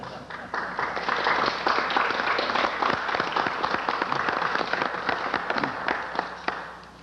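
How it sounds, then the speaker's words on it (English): An audience applauds at a December 1984 Philadelphia Eagles press conference, a dense sustained burst of many hands clapping that swells quickly, holds for several seconds and tapers off toward the end. "You're allowed to applaud."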